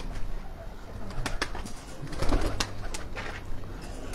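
Pigeons on a rooftop coo in soft repeated bursts close by, with a few sharper clicks and flutters over a low background hum.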